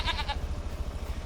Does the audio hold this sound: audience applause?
no